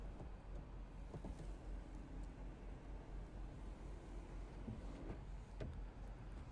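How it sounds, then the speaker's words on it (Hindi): The voice-assisted electric sunroof of a 2023 Tata Nexon EV Empowered Plus LR runs with a faint, steady motor whir and hum inside the quiet cabin, with no talking. "और ये है वॉइस असिस्टेड इलेक्ट्रिक सनरूफ"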